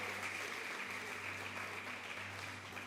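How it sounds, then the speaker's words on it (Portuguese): Church congregation applauding for the Lord, a steady broad wash of clapping lasting throughout, fairly distant and even, with a low hum beneath and no speech. "dá um aplauso bem forte ao Senhor"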